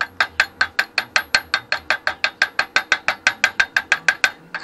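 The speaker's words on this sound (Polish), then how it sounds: "jeszcze pukniemy młotkiem, zobaczymy" Hammer tapping on a heavy harrow during farm machinery repair, a fast, steady series of about twenty sharp metallic strikes, loud and close, with no talking.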